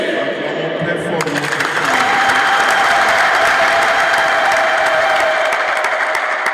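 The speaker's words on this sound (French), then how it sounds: "Acclamons très fort." A congregation applauds loudly at a Catholic mass, sustained dense clapping mixed with some crowd noise and cheering that swells after the first second and holds steady to the end.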